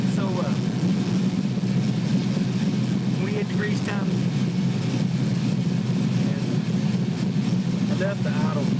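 A 5.3-liter LS V8 in a 1969 Camaro idles steadily near 975 rpm, a loud continuous low rumble with someone talking over it.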